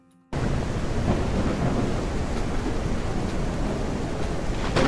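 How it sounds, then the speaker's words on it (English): A heavy thunderstorm with rain in the zombie survival game SurrounDead, a dense continuous roar of downpour and rumbling thunder that starts abruptly and stays loud throughout, with no talking. "It's a hell of a storm."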